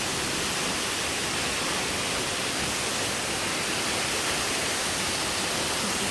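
The Diamante waterfall rushes in a steady, loud broadband roar that stays even and unbroken throughout, with no voices.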